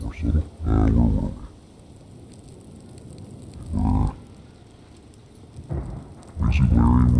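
Thunder in the survival video game Rust comes as several heavy, low rumbling bursts, some of them loud and booming, over a steady wash of falling rain.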